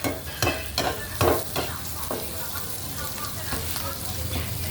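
Fresh chili, garlic and red curry paste stir-fried in a wok for a spicy catfish stir-fry, with steady close sizzling and scraping spatula strokes in several loud bursts.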